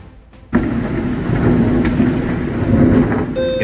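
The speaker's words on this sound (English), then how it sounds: "wind force during a storm causes significant damage" A violent thunderstorm in St. Louis, with heavy rain and rolling thunder that start abruptly and continue as a loud, dense, steady roar with no voices.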